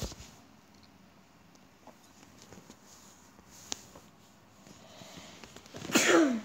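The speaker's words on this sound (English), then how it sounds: "Sorry, just had to sneeze." After several seconds of faint background rustling, a single short, sharp sneeze bursts out near the end, close and fairly loud.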